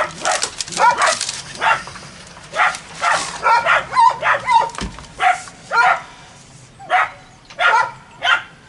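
A dog barks repeatedly and close by, a series of sharp, loud barks at irregular intervals, with a few brief gaps between bursts and no talking.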